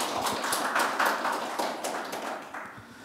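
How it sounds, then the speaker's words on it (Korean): Applause from the audience at a Korean policy forum on a civilian-led unification movement, greeting an introduced guest; a steady, moderately loud patter of many hands clapping with no talk, lasting about three seconds. "큰 박수로 환영해 주시기 바랍니다"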